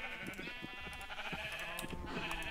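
Sheep in a Minecraft zoo modpack bleat repeatedly, overlapping wavering cries that run through the whole stretch at a steady, fairly close level, with no talking.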